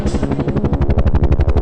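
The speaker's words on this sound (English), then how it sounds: "then I heard helicopters coming over the ridge." Rapid rhythmic thudding of helicopter rotor blades as helicopters approach over a ridge, loud and steady throughout, pulsing several times a second.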